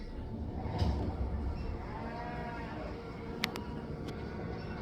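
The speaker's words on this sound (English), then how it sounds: "Look at the cows." A cow moos faintly in the distance over steady outdoor background noise, with a couple of sharp clicks later on.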